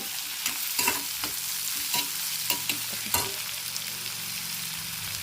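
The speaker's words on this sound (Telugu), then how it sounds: "ఉల్లిపాయనైతే సన్న ముక్కలుగా కట్ చేసుకొని కాకరకాయ ముక్కల్లోకి అయితే తీసుకొని మంచిగా అన్నీ కలుపుతూ వేయించుకుందాము" Onion and bitter gourd pieces fry in a pan while being stirred, giving a steady close sizzle broken by several sharp scrapes and knocks of the spatula, with no talking.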